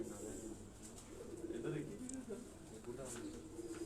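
Pigeons coo softly in low, rolling phrases on a rooftop loft, several birds murmuring close together, while people talk quietly nearby.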